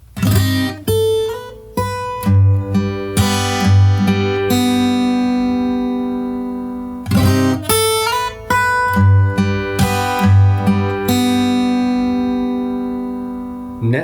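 Acoustic guitar playing the chorus of a song in a fingerstyle arrangement, with plucked notes, ringing chords and sharp percussive hits in a steady rhythm, close and clear with no talking.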